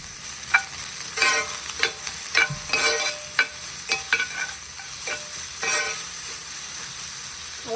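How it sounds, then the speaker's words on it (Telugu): Carrot pieces stirred into a hot pan of tempering with seeds, curry leaves, dried chillies and onion: repeated sharp spoon scrapes and clinks over a steady light sizzle. "క్యారెట్ ముక్కలు వేసి బాగా మిక్స్ చేసుకోవాలి."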